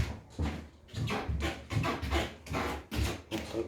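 Wooden floorboards creak and groan underfoot in a room, a series of close, rubbing squeaks repeating roughly every half second as weight shifts across the loose boards.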